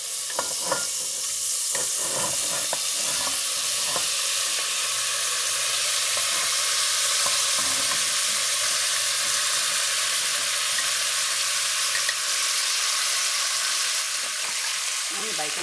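Beef and bacon dumped back into a pot for beef bourguignon fry with a loud, continuous close sizzle and hiss. A few clattering knocks come near the start.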